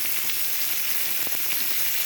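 Steady crackling sizzle of meat charring on an outdoor barbecue grill at night, a constant hiss with a few sharper pops, heard close and alone without talk.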